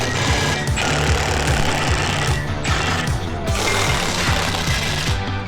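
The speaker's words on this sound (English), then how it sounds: "Using a 1/2 inch to take the flange nuts off." Rapid, loud clattering tool noise fills the whole stretch. It is a dense mechanical rattle with repeating ticks, as a 1/2 inch socket drives off the exhaust flange nuts on a Harley during an exhaust install, with no talk.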